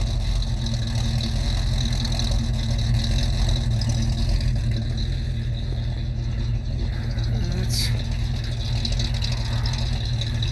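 An old Ford truck idles after a cold start in 20-degree weather, a steady low engine rumble held close and loud with an even, unchanging tone and a brief higher hiss near the end.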